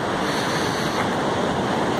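Seawater surges over a damaged waterfront at Itapoá, Santa Catarina, a dense, continuous roar of rushing water and wind, loud and close.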